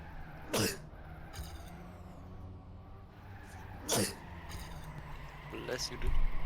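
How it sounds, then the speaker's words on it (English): Sneezes burst out sharply three times, close and loud, a staged fake sneeze among gamers amid background chatter and low hum. "You had to fake sneeze another time."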